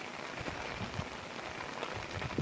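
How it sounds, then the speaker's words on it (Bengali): Rain falling steadily in an outdoor neighbourhood during a storm, a soft even hiss of drops striking surfaces, faint and continuous, with no voices. "বৃষ্টি এবং বজ্রপাত হচ্ছে বৃষ্টির শব্দ কার না ভালো লাগার কথা"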